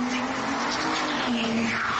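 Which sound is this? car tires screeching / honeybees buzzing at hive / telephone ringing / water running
car tires screeching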